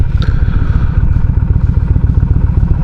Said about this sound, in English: In fact, I'll cut off the engine.